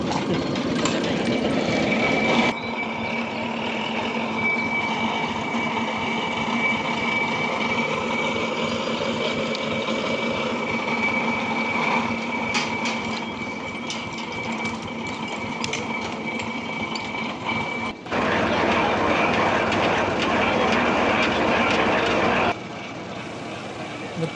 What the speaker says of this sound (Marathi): जुनं ट्रॅक्टर आहे, महिंद्रा 475 DI.